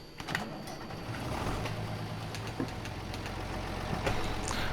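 A Lizard 1614 tractor in Farming Simulator 22 fires up and settles into a steady, low engine drone that holds throughout, with a few faint clicks over it.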